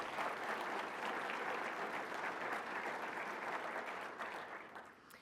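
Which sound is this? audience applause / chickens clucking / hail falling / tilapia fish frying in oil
audience applause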